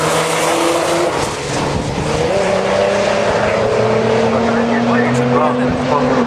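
A front-wheel-drive drag racing car roars loud and close, its engine drone sustained throughout and climbing in pitch as it powers along.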